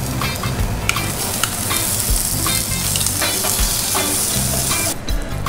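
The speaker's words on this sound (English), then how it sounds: "Better get some of these Vienna sausages in there." Vienna sausages and eggnog French toast frying in a cast iron pan, a loud, continuous oily sizzle with crackles and pops throughout and no talking.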